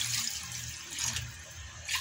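Water pours steadily into a cooking pot for sinigang made with chicken feet. The splashing and running flow is moderately quiet and continuous, and nobody speaks.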